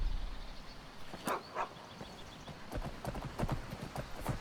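A horse's hooves clip-clop at a walking pace in the Skyrim game world, a steady, moderately faint series of thuds that is briefly broken by a couple of louder hits and faint ambient sound.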